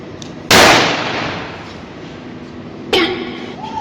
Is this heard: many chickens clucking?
no